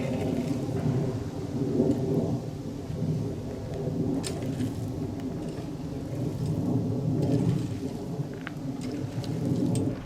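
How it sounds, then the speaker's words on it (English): Thunder rolls in low and long over a steep driveway being graveled, a continuous deep rumble swelling and fading beneath steady rain patter and scattered drops. "I hear the thunder rolling in, sky's clouded over"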